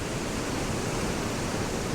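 The Avon River below the Avon Dam on Dartmoor, swollen after heavy rain, rushing in a dense, steady roar of water with no letup, loud and close.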